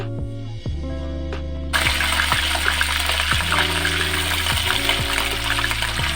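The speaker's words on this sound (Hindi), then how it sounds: "अब इसमें हम आलू डालेंगे।" Potatoes dropped into a hot pan with green chilies over a high gas flame, setting off a sudden loud, steady sizzle and crackle of frying that continues to the end.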